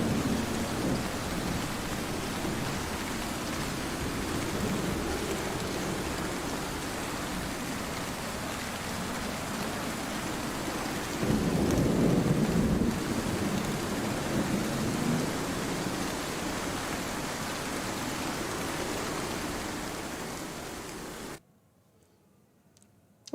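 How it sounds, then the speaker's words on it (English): Steady heavy rain hisses throughout, with a deeper thunder rumble swelling near the middle, before the sound cuts off abruptly near the end. "Do you hear thunder? I do hear thunder."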